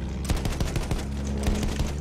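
Rapid bursts of gunfire from an artillery truck in the video game Battlefield 1, a quick run of sharp, punchy shots, fairly close.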